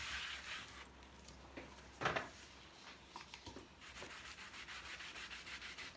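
Sandpaper rubbed over wood: quiet scratchy strokes in an uneven rhythm, with a sharper scrape near the middle, heard close up and alone.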